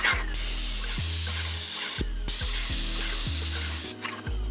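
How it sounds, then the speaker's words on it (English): Steady hiss of a paint sprayer coating an exterior wall in long continuous bursts, stopping briefly twice, with a low mechanical hum running underneath. "you're going to spray it that 1st coat"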